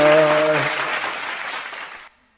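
Studio audience at a quiz show breaking into a burst of loud, dense applause that starts over a brief musical tone, then gradually tapers before cutting off abruptly.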